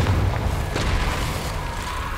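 A Confringo fire spell explodes in the Hogwarts Legacy video game, a deep, booming blast that rolls through a dense low rumble and stays loud over about two seconds, with no talking.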